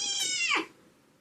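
A house cat lets out a single loud, sharp meow with a falling, strained pitch after being sat on, close up, ending abruptly with quiet room tone afterward.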